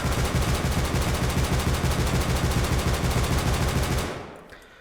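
An LR-300 rifle in the game Rust fires a continuous full-auto burst, loud and close. The shots are rapid and evenly spaced, and the burst stops abruptly near the end, leaving a short fading tail.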